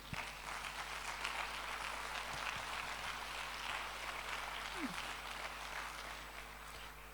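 A church congregation claps during a Christian sermon, a faint, steady wash of applause that carries on evenly throughout, heard from a distance with no talk over it.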